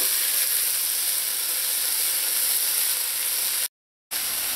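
Peas and rice going into a pan of sizzling tender vegetables for saffron turmeric rice, a loud steady hiss of frying that cuts out abruptly for a moment before resuming.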